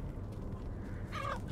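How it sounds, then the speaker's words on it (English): A chicken in the Resident Evil Village video game gives one brief cluck near the end of the moment, over a low rumbling game ambience. "Chicken."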